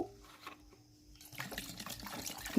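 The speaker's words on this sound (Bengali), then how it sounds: "এবার এই সসপ্যানটি ভর্তি করে জল দিয়ে দেব" Water poured into a saucepan holding lemon peels, a brief close stream that starts quietly and swells into a louder, steady splash over a couple of seconds, with no talking.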